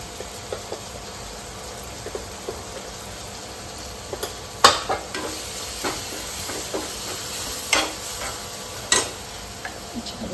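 Mutton masala and turmeric sizzle in a hot pan, a constant frying hiss broken by repeated scraping stirs and occasional sharp clinks of the spoon against the pan.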